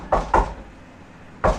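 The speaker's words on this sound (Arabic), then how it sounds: "واحد يجي يخبط على البوابه" Someone knocks on a gate: two quick, hollow raps close together, a pause, then a single further rap, close and clear with no other sound around them.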